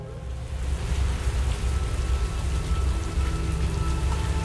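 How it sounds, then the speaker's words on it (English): Heavy rain pours down steadily in a video game, a dense, continuous hiss of drops hitting surfaces with no voices. "and then it started to rain. I forgot how intense African downpours could be."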